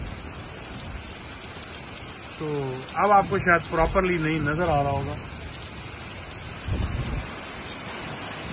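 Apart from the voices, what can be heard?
hurricane wind and rain in Florida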